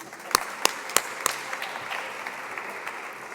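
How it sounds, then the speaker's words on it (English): Audience at a fireside chat applauding, opening with a few sharp, separate claps that swell into a soft, sustained round of clapping. "Give yourselves a round of applause for"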